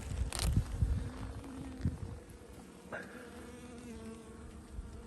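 Low, steady buzzing of many honeybees on a hive frame close by, with a brief higher tone and faint knocks near the start.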